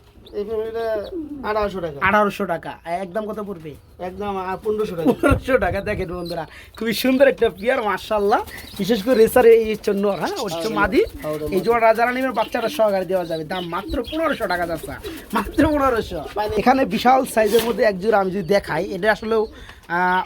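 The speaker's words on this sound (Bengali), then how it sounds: "বড় সাইজের খাঁচার মধ্যে কবুতর জোড়াটা দেওয়া এই হচ্ছে সিলভার কালারের মধ্যে আপনার সিরাজি কবুতর" A pair of silver-coloured Sirazi pigeons coo in a large cage, their soft rolling calls repeating throughout while people talk nearby.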